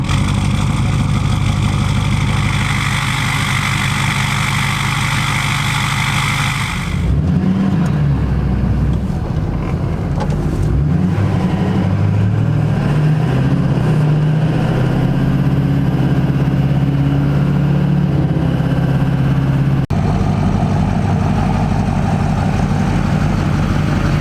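Duramax pickup truck engine running, first a steady loud idle drone, then shifting into a lower, varying rumble as the truck pulls away and drives on the road, with no talk.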